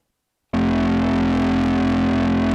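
A distorted acid techno synth drone swells in after a brief silence, its tone swirling and shifting with stereo modulation. It holds loud and sustained to the end.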